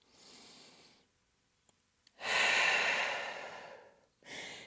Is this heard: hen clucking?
no